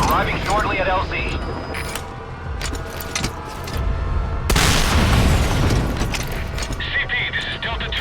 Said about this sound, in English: There was an explosion.